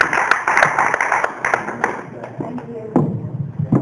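An audience claps for a singer at a charity fundraiser talent show, a burst of applause with sharp hand claps that thins out within a couple of seconds while a host speaks over it.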